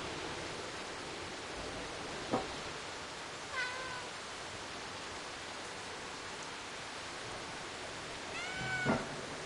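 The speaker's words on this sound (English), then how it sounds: "Meow meow meow meow meow. Say hello to Mink" A cat in the video game Stray lets out three short, separate meows, the last a little louder, over a constant rain-like hiss.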